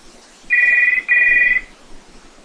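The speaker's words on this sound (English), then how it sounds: "Let's go check the phone." A telephone rings twice in quick succession, each electronic trill loud and close, with a brief gap between them and quiet afterward.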